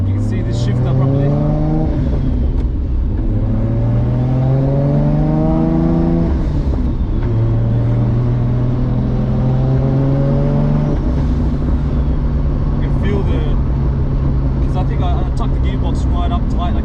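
An MK3 Supra with a 60mm-turbo 2JZ engine, six-speed swap and solid mounts pulls through several gears from inside the cabin, its engine note climbing steadily in pitch, dropping at each shift, then settling into a steady drone.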